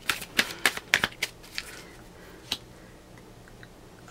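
Tarot cards being shuffled by hand, giving a quick burst of crisp riffling clicks in the first second and a half, then sparser single taps and flicks, close and fairly quiet.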